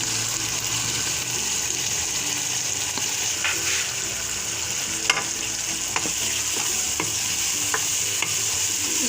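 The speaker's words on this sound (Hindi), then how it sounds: "अब यहाँ मसाले थोड़े से पक जाए, और साथ ही में हम इसमें टमाटर ऐड करेंगे।" Spices and tomatoes sizzling in a pan for lauki chana dal while a spoon stirs them, giving a steady close frying hiss with scraping stir strokes throughout and no talking.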